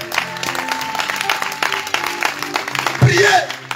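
A church congregation claps to acclaim Jesus Christ during a fasting service, the dense applause swelling near the end under a loud voice and tonal music.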